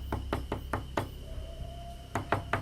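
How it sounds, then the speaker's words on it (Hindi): Knocking on the wooden door of a small house: a quick run of five sharp raps, a pause, then three more, close and crisp over a faint hum. "गोखले ने दरवाजा खटखटाया।"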